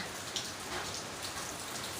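Steady rain falls with a dense, hissing patter and occasional individual drops, continuous throughout.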